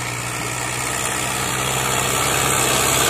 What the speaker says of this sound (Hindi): ए नु कहंदे अगरी मास्टर मुकम्मल मशीन